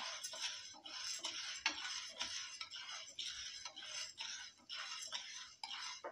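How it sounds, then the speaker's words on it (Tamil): Cowpeas dry roasting in a hot pan are stirred continuously, giving a steady rattling, scraping clatter of seeds and utensil against metal, fairly quiet and close. "தட்டைப்பயிர் போட்டு வறுத்து எடுத்துக்கலாம்"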